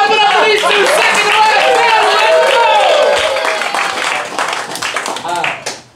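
Audience clapping at a New York roast battle comedy show, a steady dense patter of many hands that runs loud for several seconds before thinning out, blended with crowd noise and voices.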